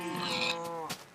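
A pig in a survival island video game lets out one short, harmonic squeal-like grunt that bends in pitch, fairly close and clear, with a faint click near the end.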